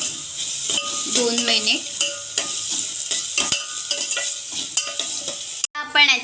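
Vegetables for manchow soup fry in a pan, a continuous hiss and sizzle broken by repeated clacks of a spatula stirring against the metal; a brief voice speaks near the end.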